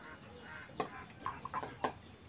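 Chicken clucking nearby in short, irregular bursts, four or five quiet clucks over a low outdoor background hum.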